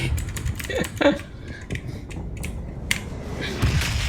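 Scattered clicks and taps of computer keyboard keys being typed at a casual, uneven pace during a PUBG Lite game session, close by, with brief pauses between bursts.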